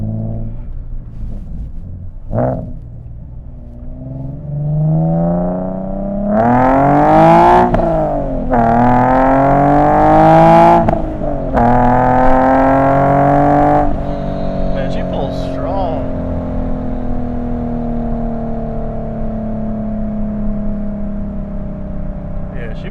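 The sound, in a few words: Nissan 370Z NISMO with Fast Intentions exhaust accelerating from first gear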